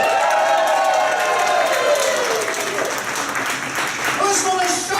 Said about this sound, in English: You'll get a big thunderous round of applause.